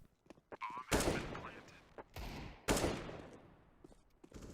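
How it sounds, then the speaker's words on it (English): Gunfire traded on Dust2 in Counter-Strike: several sharp, loud bursts of shots crackle in quick succession, with short gaps and faint clicks between them. "Shots exchanged at mid, not really connecting"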